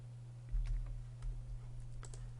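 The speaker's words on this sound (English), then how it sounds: "press Enter on the keyboard" Keys tapped on a computer keyboard while working in a Google Sheets spreadsheet, a few quiet clicks over a steady low electrical hum, with no voices.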